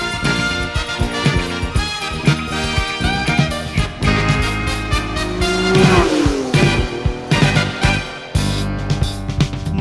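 Revving engine and tire-squeal effects of a red Ferrari sports car ring out inside a Japanese pop song, mixed loudly with the full band, with a sweeping roar near the middle.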